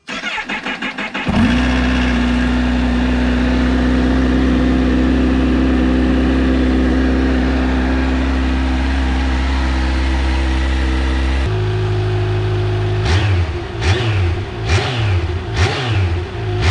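A Kawasaki H2 SX SE motorcycle, rebuilt after damage, cranks and starts, then settles into a loud, close, steady idle. Near the end it gives several sharp throttle blips and revs, with no talking.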